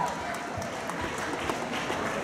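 Continuous applause from an audience at a dance contest in Győr, a dense steady patter of clapping filling the whole stretch.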